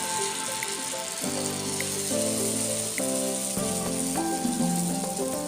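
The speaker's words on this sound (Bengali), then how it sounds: "এরপর আমি একটা ডাবুর সাহায্যে একটু বেটার নিয়ে এইভাবে তেলের মধ্যে আমি ছেড়ে দেব।" Spoonfuls of rice and lentil batter sizzle and crackle steadily in hot oil, a continuous close frying hiss with background music playing throughout.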